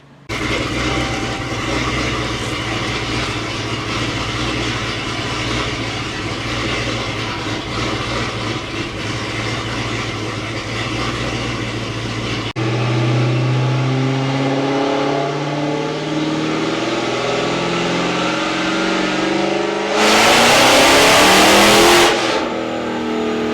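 A supercharged 2022 Dodge Challenger Scat Pack engine roars steadily at high revs on a dyno, climbing in pitch through a long full-throttle pull, ending with a harsh burst of noise.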